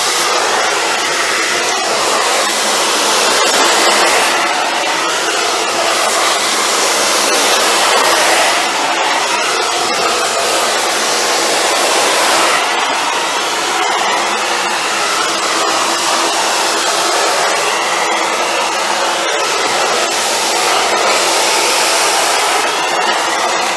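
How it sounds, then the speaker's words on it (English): Steady, loud roar of a hair dryer blow-drying long frizzy hair up close, running without a break, its airflow wavering slightly as the nozzle moves through sections. "when you're like doing the blow dry, when you're taking the hair, you can always take the section you did before"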